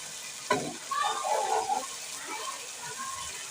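Chicken sizzles in a frying pan in a home kitchen, a soft steady hiss sitting low beneath nearby people talking.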